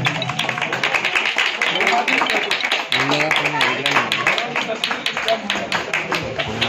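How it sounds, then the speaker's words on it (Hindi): Crowd clapping at a Milad un Nabi community gathering, steady, dense applause lasting several seconds with a voice talking over it. "जोरदार तालियों के दरमियान"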